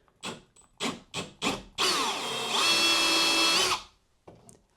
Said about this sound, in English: Now I'm going to use our big hunky 1/2 inch drill bit.